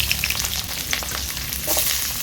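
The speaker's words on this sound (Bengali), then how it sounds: "তেল গরম হয়ে গেছে এবারেতে আমি পেঁয়াজ কুচি দিয়ে দিচ্ছি" Chopped onion frying in hot oil in a wok: a steady, loud crackling sizzle with dense spitting pops throughout and a low bubbling rumble underneath, with no voices.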